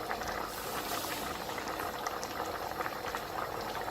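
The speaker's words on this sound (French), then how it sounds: "je vais venir mettre les pommes de terre avec les carottes" Potatoes and carrots go into a vegetable and bourguignon broth at a steady rolling boil, giving a continuous close bubbling and churning with no voices.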